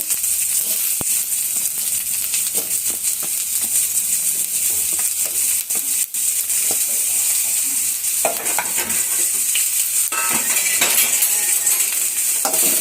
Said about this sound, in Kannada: ಈಗ ಫಸ್ಟು ಎಣ್ಣೆ ಕಾದ್ಮೇಲೆ ಕಟ್ ಮಾಡಿ ಇಟ್ಕೊಂಡಿರೋ ಈರುಳ್ಳಿ ಹಾಕ್ತಾ ಇದ್ದೀನಿ.